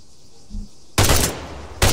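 Rifle fire on an ArmA 3 firing range, two loud close bursts of rapid shots, the first lasting about a third of a second and the second starting near the end, after a quiet lead-in.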